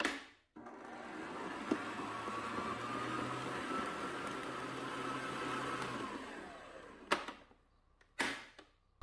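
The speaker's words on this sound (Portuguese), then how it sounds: "vou ligar novamente a batedeira e agora eu vou bater até atingir o ponto de véu." An electric stand mixer beats carrot panettone dough with chocolate chips. Its steady motor hum runs for several seconds, fairly faint and alone, then stops, followed by a few brief clunks.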